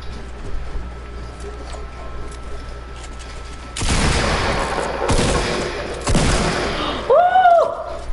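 Gunfire in Fortnite: a couple of loud, broadband shot bursts with a shattering edge at mid-clip, then a rising synthesized chirp over a low, steady game background.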